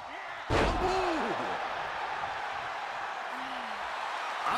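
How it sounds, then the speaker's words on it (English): A spinebuster slam in the WWE 2K24 wrestling game lands as one sharp, heavy impact early on, followed by a crowd murmur and a sustained arena roar, with brief vocal sounds mixed in. "Oh, what a jarring spine buster."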